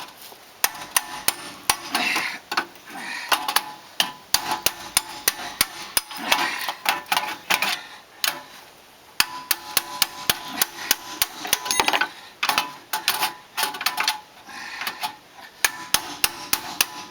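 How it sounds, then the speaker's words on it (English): Repeated hammer blows strike metal parts while a German-made car is taken apart, sharp clanging hits arriving in irregular bursts throughout, close and loud with no talk. "It still needs a hammer and a crowbar."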